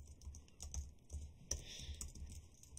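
Code is typed on a computer keyboard in quick, soft clicking runs with brief pauses, heard close and alone at low volume.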